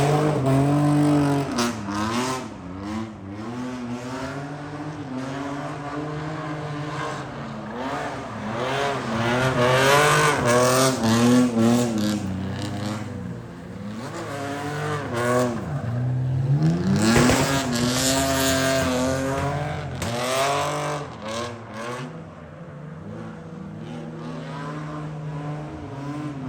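New gen class drift cars at the Indonesian D1GP rev hard and loud, engines rising and falling in repeated swells with tire squeal, a continuous aggressive roar throughout.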